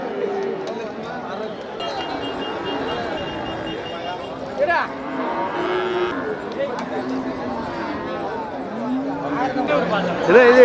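Cattle moo at the Melapalayam cattle market amid a busy crowd, with people talking and chattering nearby throughout and occasional lowing rising above the hubbub.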